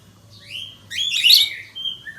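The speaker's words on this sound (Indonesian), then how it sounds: "Ini pelatuk sampit, burung masteran juga." A pelatuk sampit bird kept as a master bird for training songbirds sings bright rising whistles and a busy burst of chirps, close and clear over faint background hum.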